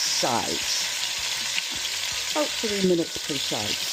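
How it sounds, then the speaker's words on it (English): A chuck roast sears in very hot oil in a pot, giving a loud, continuous sizzle and crackle up close while a person speaks over it. "Hear that? That's the sound of a really hot oil"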